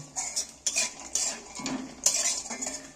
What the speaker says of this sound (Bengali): বাদামটা আমি তেলের মধ্যে দিয়ে দিচ্ছি। একটু আস্তে করে আঁচে ভালো করে একটু নাড়াচাড়া করে ভেজে নেব।